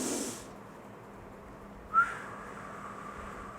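A slow, steady pursed-lip exhalation that sounds like a soft whistle, shown as a breathing technique after nebulizer use. It is a faint, continuous airy tone with a small brief peak partway through, and no one talks over it.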